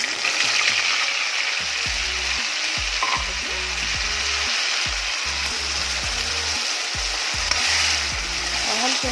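Ground spice paste sizzles in hot oil with browned cumin for palak paneer, stirred steadily with a spoon scraping the pan in an uneven rhythm, with a continuous close frying hiss underneath.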